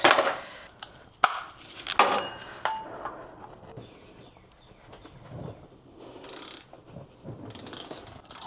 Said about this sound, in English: Let's see which one of these wrenches works.